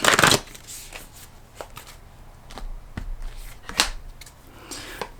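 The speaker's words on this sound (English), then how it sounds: "So let me just shuffle very quickly." Quick riffle shuffles of a card deck, crisp fluttering bursts close by, a few separate shuffles with brief pauses between them.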